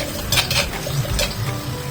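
Garlic sautéing in a hot pan for sweet and sour chicken, a steady close sizzle with light scraping and stirring clinks from a utensil against the pan.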